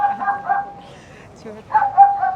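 A voice imitates a dog barking and yipping in short bursts, with a pause in the middle, close and moderately loud.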